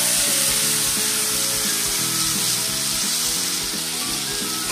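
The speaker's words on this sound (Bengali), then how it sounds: "এর মধ্যে দিয়ে দেবো আমি এবার এই যে আদা জিরে" Ginger and cumin sizzle in hot oil for a potato, pointed gourd and paneer curry, a loud continuous frying hiss layered over rhythmic, tonal background music.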